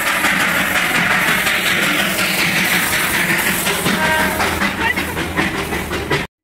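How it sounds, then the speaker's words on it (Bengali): Darjeeling's diesel-engine toy train at Batasia Loop rolls past close by, a loud, steady rumble and rattle of wagons with clickety-clack and hiss that holds for several seconds before stopping abruptly. "স্টিম ইঞ্জিনের পরেই আসছে ডিজেল ইঞ্জিনের টয় ট্রেনটি।"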